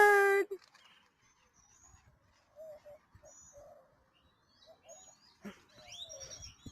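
A pet bird chirps and coos nearby in short, scattered calls, ending in a brighter run of quick tweets.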